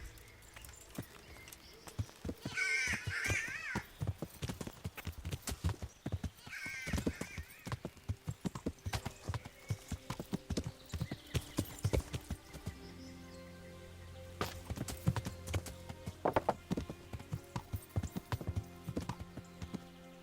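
Horse hooves gallop in the medieval video game Kingdom Come: Deliverance, a steady rapid clip-clop of many close, loud beats that runs throughout, with a few crow caws and a brief whinny along the way.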